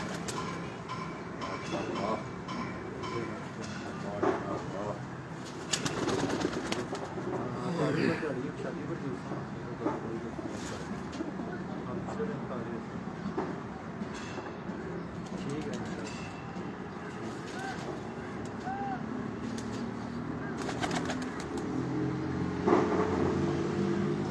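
Pigeons coo on a rooftop in Islamabad against a busy outdoor background of traffic rumble, passing vehicles and scattered voices throughout.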